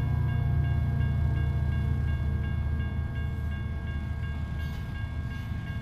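A long train rumbles past on Canadian rails in a truck-driving game, a loud steady low roar with rolling wheel clatter and a sustained tonal hum throughout, alone without talk.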